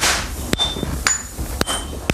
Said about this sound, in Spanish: Los estudiantes manejan los enormes martillos que dan forma al hierro al rojo